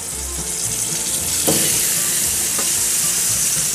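Lamb patties frying in oil on a plancha grill, a loud, continuous close sizzle with a couple of brief scraping stirs and no talking.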